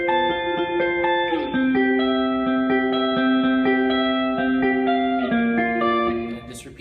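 A lead electric guitar plays the chorus line of a worship song, clean sustained notes with echo and reverb, sliding between pitches in a slow melodic phrase that fades at the end.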